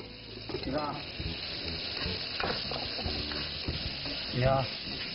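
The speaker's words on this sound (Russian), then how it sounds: "Мы готовим мясо с прожилками сала" Pork with streaks of fat sizzling steadily in a hot pan while being stirred, with scraping stir strokes and a brief louder burst near the end.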